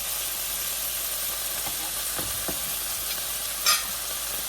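Butter sizzles in a frying pan for a scallops lunch, a loud, continuous hiss and crackle with a few faint stirring scrapes, with nobody talking.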